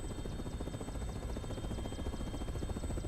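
A helicopter flown in the video game Resident Evil 6 gives a steady, loud rotor drone with continuous chopping pulses from start to finish.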